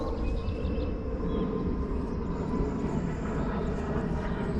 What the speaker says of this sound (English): Now I got a plane going by.